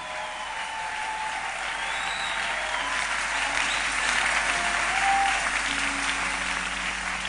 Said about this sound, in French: Tu as raison d'acclamer, tu as raison.